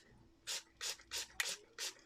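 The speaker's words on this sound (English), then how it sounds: "spray it with alcohol" Five short, soft hissing bursts of alcohol sprayed onto soap in a quick, fairly even rhythm, faint and close with quiet pauses between.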